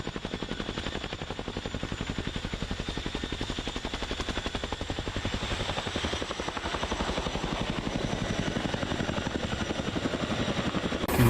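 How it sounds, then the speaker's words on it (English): A helicopter taking off, its rotor thumping in a rapid, steady chop with a loud engine whine, continuous and close for the whole stretch. "This helicopter just popped a wheelie before taking off"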